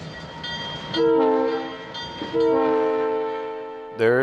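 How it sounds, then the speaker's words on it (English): Diesel locomotive on the Durango and Silverton narrow gauge railroad sounding its horn in several long, loud blasts with short gaps, a brief engine rumble before and a final blast starting at the end. "There's the diesel."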